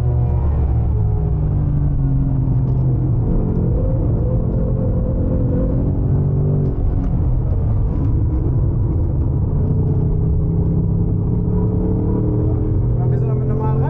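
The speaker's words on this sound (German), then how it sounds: "Merkst du, wie gut das Auto so über die Curbs rüberfährt?" A Ford Mustang on stock suspension and normal road tyres drives a racetrack during a trackday, its engine droning steadily with a low rumble and bumps over the curbs, heard from inside the car while people talk throughout.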